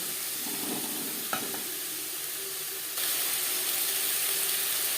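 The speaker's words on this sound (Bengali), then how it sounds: "পনির ভেজে নেওয়া তেলে দিয়ে দিলাম শিম আর গাজর" Green beans and carrots fry in oil left from frying paneer, a steady close sizzle with a few stirring scrapes, growing slightly louder partway through.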